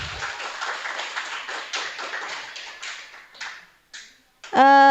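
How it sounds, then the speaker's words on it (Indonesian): Applause from the audience closing an Indonesian business and preaching workshop: a steady patter of claps that thins out and trails off into scattered claps before a voice begins at the very end. "Tepuk tangannya mana teman-teman?"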